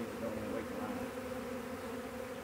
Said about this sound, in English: A lot of bees rolling in here.